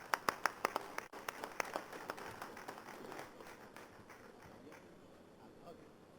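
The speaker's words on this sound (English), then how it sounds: "Let's invite him with a big applause." Audience applause welcoming a speaker at the Indian Science Congress 2017, a scattered burst of hand claps that starts sharp and distinct, then thins and fades into quiet room noise.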